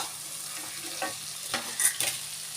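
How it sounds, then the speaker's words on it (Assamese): Potato pieces go into a pan of frying tomatoes, bringing a soft hiss and a few quick stirring scrapes and splats, close and fairly quiet, with no voices. "এয়া মই আলু লৈছিলোঁ, এইদৰে টুকুৰা টুকুৰ কৰি এয়া মই আলু দিছোঁ ইয়াত"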